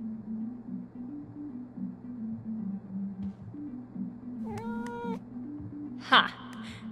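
A cat in the video game Life Is Strange: True Colors gives a short meow and then a sharper, louder cry, close by over a low droning game background with a voice talking.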